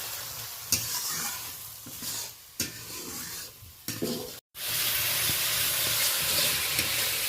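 Spice masala sautéing in a pan for a home-style fish and garden-vegetable dish, with a steady close sizzle and hiss broken by scraping stirs, a brief silent gap midway, then continuous frying.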